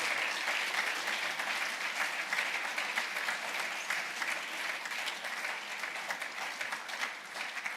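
Sustained audience applause at a capital markets day event after a presentation: many hands clapping densely and evenly, moderately loud, holding steady for several seconds with no voices over it.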